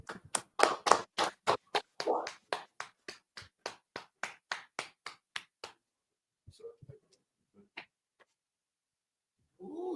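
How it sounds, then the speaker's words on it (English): A single person claps at a class session, about twenty sharp, evenly spaced claps in a close, quick rhythm that taper off. Sparse faint sounds follow in near silence, and a voice begins at the very end. "Clap it up"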